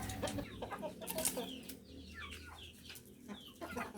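Chickens near newly hatched chicks cluck in a busy, irregular series of short calls, some near and some farther off, over a low background hum.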